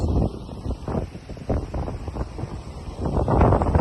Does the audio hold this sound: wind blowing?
yes